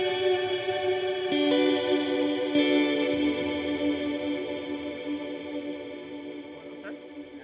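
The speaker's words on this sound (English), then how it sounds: "this is a multi-delay into a reverb, into a delay, and into another delay" Electric guitar played through a Fractal-style chain of multi-delay, reverb and two more delays, sustained chords smearing into long echoing tails with a chorus-like shimmer, steady and moderately loud with no talking.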